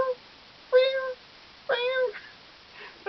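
A cat meows three times with clear, tonal cries, the second one longer and drawn out, the last one cut short. Each cry is close and moderately loud, with near silence between them.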